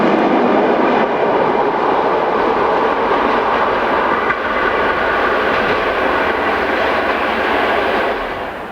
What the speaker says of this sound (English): 11615 makes light work of this afternoon mail train